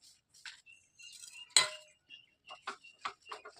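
Roasted peanuts and sesame are stirred into melted jaggery for winter chikki. A metal spoon gives sparse clinks and scrapes against the pot, and one sharper knock stands out amid otherwise quiet pauses.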